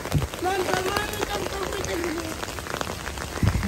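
Steady outdoor rain patters on surfaces nearby, a continuous wash of drops with a few louder splashes, while someone talks over it.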